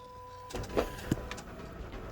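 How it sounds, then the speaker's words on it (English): A Freejet 330TX DTG printer prints the color layer of a DTF transfer, a quiet mechanical whir with a steady tone and a few distinct clicks and thumps as the carriage moves. "we're printing our first layer, which is our color layer"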